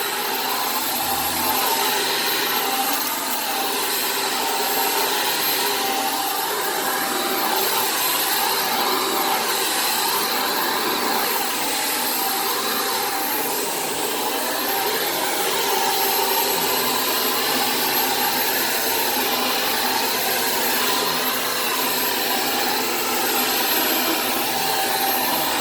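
Shark Apex DuoClean vacuum cleaner running steadily over a living room carpet, a loud, constant high-pitched motor whine with brush roll noise that holds without a break from start to finish.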